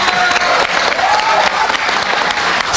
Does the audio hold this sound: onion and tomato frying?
no